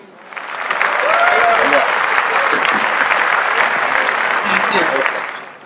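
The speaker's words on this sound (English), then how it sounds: "Please give a round of applause to Sandeen." Warm, sustained audience applause at a veterans' event honoring transgender service, swelling quickly, holding a dense even level, then tapering off near the end with faint voices mixed in.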